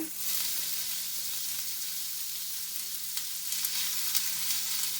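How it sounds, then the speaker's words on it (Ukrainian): Onion frying in heated oil in a pan, a steady close, loud sizzle with a continuous crackling hiss throughout and light stirring noises, no talking. "Тепер ми розігріли масло на сковородці і починаємо жарити."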